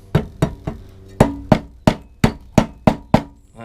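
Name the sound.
hammer striking while fitting lawnmower engine parts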